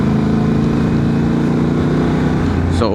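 A Honda Transalp 750 motorcycle with an ECU remap accelerates in third gear. The engine roar is loud, steady and close, and it climbs in pitch near the end as the revs rise.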